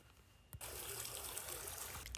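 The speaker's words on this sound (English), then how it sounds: "River, and rush towards the sea." Rushing river water heading toward the sea, a steady loud hiss of flowing water that starts abruptly after a brief quieter moment and carries on unchanged to the end.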